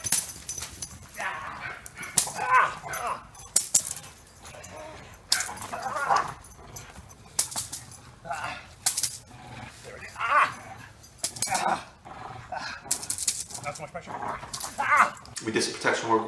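Dogs barking and yipping during protection work with a trainer, in repeated sharp bursts, loud and close, mixed with shouted handler commands and other voices.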